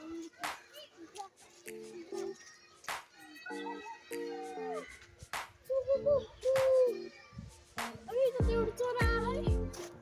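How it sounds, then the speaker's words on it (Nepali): Pigeons coo in repeated low, throaty phrases in Banbatika Park, close by and fairly clear, while children and adults chatter around them. "यहाँ परेवाहरू रहेछ"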